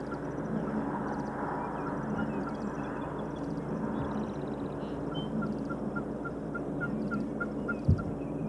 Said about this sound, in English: a Jake that puts on a show, strutting and gobbling like a mature tom